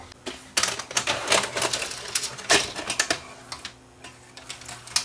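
A Mitsubishi HSU55 VCR with a newly replaced belt threading a tape, giving close, loud mechanical clicks and clattering whirs in uneven bursts, with a faint steady hum underneath.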